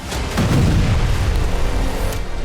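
A single loud, deep boom of an explosion in Kovalivka, Luhansk, with a heavy low rumble that rolls on and decays over a couple of seconds.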